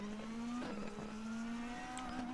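A DTM touring race car in the DTM Experience game drones along with a steady engine note that holds near constant pitch, with faint tire noise under it.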